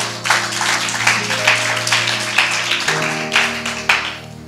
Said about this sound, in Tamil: ஒரு முறை கைத்தட்டல் கொடுங்க பார்க்கலாம்.